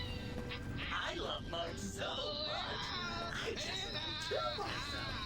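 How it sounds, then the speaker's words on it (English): Several robot characters in Fallout: New Vegas wail and scream together, overlapping warbling cries that go on without a break at moderate loudness, with a voice talking in the background. "God, they're just collectively all screaming all the time"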